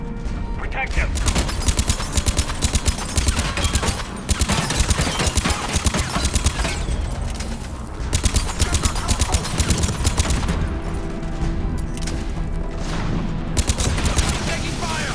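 Dense, continuous gunfire from the Mass Effect 3 video game, rapid repeated shots filling the whole stretch with only brief gaps, loud and close, with shouted combat voices mixed in.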